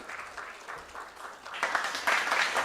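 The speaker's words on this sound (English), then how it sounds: "Let's give Mr. Singh a warmer round of applause" Audience applause at a performance marketing conference in 2025, starting as scattered claps and swelling into louder, fuller clapping toward the end.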